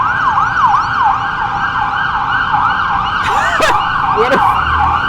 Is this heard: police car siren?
yes